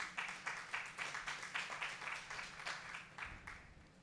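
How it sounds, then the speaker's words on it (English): Applause at a certificate ceremony for a training programme, heard as a fairly faint, regular clapping with a steady rhythm of distinct hand claps that tapers off near the end, no voices. "Give them a round of applause."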